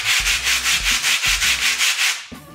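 Glazed brake pads from a 2015-or-later Subaru WRX rubbed on abrasive over a flat surface: about ten loud, close, evenly paced back-and-forth scraping strokes, then a stop.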